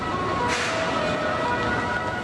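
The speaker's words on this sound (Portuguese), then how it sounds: "Sirenes soaram em Petrópolis, avisando aos moradores para deixarem as áreas de risco" Emergency sirens sounding across Petrópolis during flooding, warning residents to leave risk areas: a steady, distant wailing tone over a dense wash of outdoor noise, with no voices.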